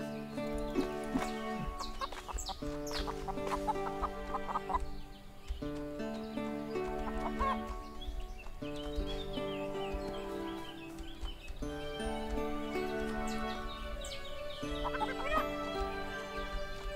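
Chickens clucking in the farming game Everdream Valley, steady repeated clucks over layered background music with no talk.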